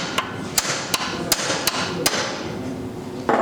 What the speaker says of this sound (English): we're going to leave the nut on and we're going to tap the sides and let it drop